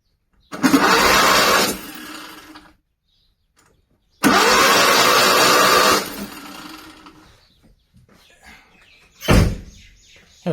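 A long-idle Fiat 126 barn find is cranked twice, each attempt a loud, rough, buzzing crank lasting a couple of seconds with a silent gap between, followed by a short sharp burst near the end.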